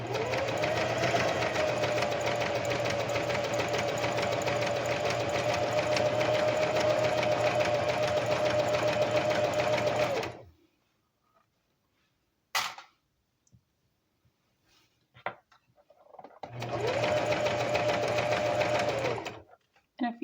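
A sewing machine stitches a line at steady, fairly loud speed for about ten seconds, stops for several seconds with a few small clicks, then runs again for another few seconds.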